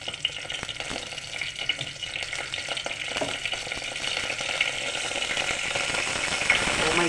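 Tempering spices sizzle and crackle in hot oil in a pan while a tomato curry is cooked, a close, steady frying hiss with scattered pops that grows gradually louder.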